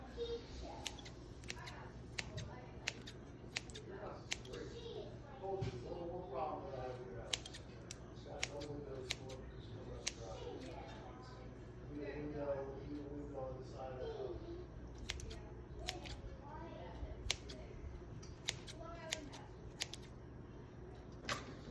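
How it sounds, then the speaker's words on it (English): Scissors snip repeatedly in quick, irregular clicks at close range, cutting up clams, under quiet talking throughout. "now I'm going to cut up the clams, and this is a trick I use now, using scissors"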